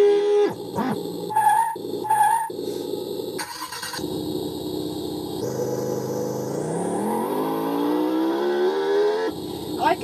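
An RC car sound system simulates an engine revving hard at full throttle, a loud buzzy synthetic roar that surges and stutters, then climbs in a long steady rising whine before cutting back, close and with no talk.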